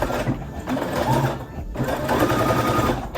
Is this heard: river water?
no